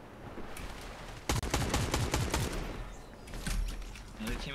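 Rapid bursts of automatic gunfire crack out in the video game Fortnite, with a dense volley in the middle and scattered shots afterward, as players talk over the shooting.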